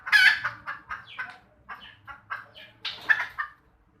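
A hen clucks in a rapid series of short, fairly loud calls close by, with a brief pause before another burst.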